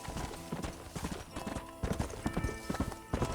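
Horse hooves clip-clop steadily in Red Dead Redemption on PS3 as the rider crosses rough, rocky ground off the road, a close, continuous rhythm of hoofbeats mixed with game sounds.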